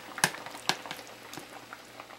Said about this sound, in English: And leave it to simmer for a few minutes.